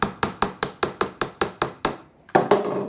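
Ball-style gasket hole punch tapped on gasket material, about ten quick even metallic taps in a steady rhythm, then a pause and a louder scraping knock, close and clear.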